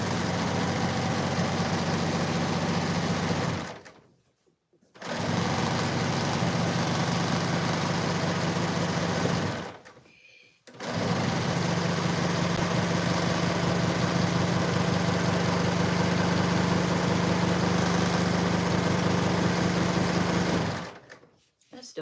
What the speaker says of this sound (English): Let me go ahead and serge this.